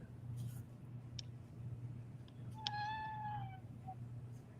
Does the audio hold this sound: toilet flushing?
no